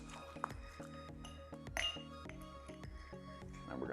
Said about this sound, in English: Then I'm gonna top off my glass with the ice cubes.